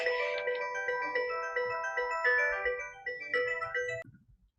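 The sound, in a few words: phone ringing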